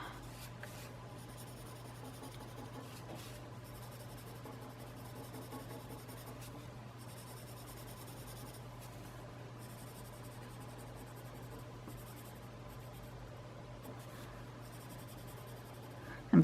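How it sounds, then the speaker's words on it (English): Pen drawing on paper, a steady soft scratching and rubbing of the nib that runs continuously, close and quiet, over a constant low hum with no talking. "And because I draw on both sides of the paper"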